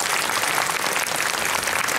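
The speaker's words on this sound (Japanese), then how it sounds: "まず張先生に拍手をいただきたいと思います。" An audience at a face-changing show in Nagasaki claps in dense, steady applause, close and sustained for the whole two seconds with no voices.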